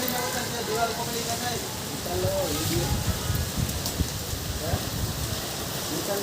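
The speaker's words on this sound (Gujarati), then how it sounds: "વરસાદ ધીમો પડી ગયો" Continuous patter of rain falls on surfaces, a dense steady hiss with scattered drops, while muffled voices murmur underneath.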